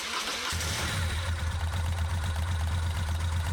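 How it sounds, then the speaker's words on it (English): A motorcycle engine cranks and catches about half a second in, then settles into a steady, loud idle with an even low throb, running during a charging-system voltage test. "Now let's retest the charging voltage with the engine running."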